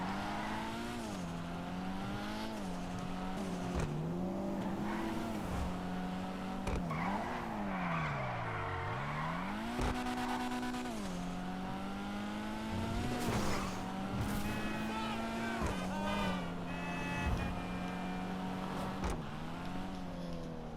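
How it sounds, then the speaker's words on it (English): Weeny Issey Rally car in GTA 5 Online driven around an airport, its engine revving up and down through gear changes with tire squeals and skids, loud and continuous. "So a quick drive around of the Issey Weeny on the airport so we have no interruptions"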